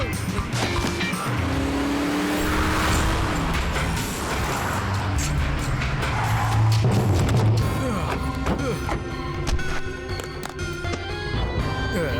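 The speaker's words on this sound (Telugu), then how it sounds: "నువ్వు కార్ని త్వరగా తోలు." Cartoon car speeding along in an animated scene, engine noise running continuously throughout with tire and impact effects mixed under music and voices.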